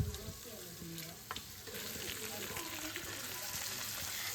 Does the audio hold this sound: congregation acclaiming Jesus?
no